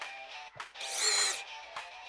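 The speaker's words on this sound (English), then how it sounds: "Rigid subcompact. Speed 2 and in drill mode." A Ridgid subcompact cordless drill, on speed 2 in drill mode, whirs in short bursts, revving up to a loud, high-pitched whine as it bores into wood, then winding down.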